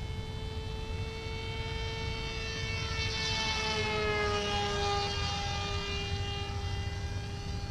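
A battery-powered Sweepwings Runt RC model plane cruises past just below half throttle, its steady high motor whine rising and then dropping in pitch as it passes, loud and continuous throughout.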